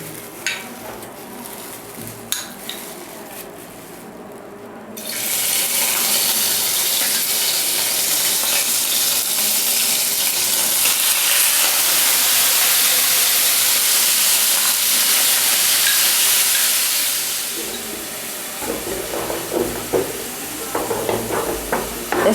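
Minced meat hits hot ghee in a pan, setting off a loud, steady sizzle that rises abruptly and holds for about twelve seconds before dying back to softer crackles and spatters.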